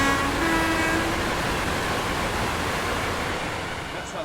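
Class 801 Azuma train running in a train simulator game on the East Coast Main Line, a steady broadband rush of running noise with a faint tonal whine underneath that slowly fades a little toward the end.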